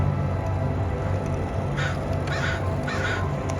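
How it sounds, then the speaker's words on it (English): Crows caw in short repeated bursts against steady outdoor background noise in Stanley Park, Vancouver, sounding moderately distant, with a few harsh calls spaced about half a second apart. "the inevitable crows"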